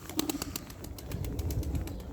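A pet pigeon beats its wings in quick, rhythmic flaps close by, the flutter strongest at first and then fading into softer movement and low background noise.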